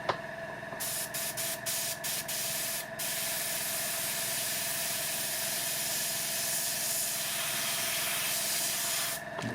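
An airbrush sprays paint onto the lower hull of a scale model Hungarian 40/43M Zrinyi II assault gun, giving a steady close hiss that runs almost unbroken, with a few short sputtering bursts at the start and a pause near the end.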